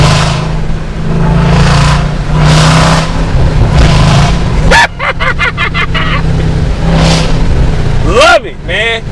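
Supercharged Dodge Durango Hellcat SUV engine revving in repeated quick blips, loud and close, with someone talking excitedly over the growling bursts.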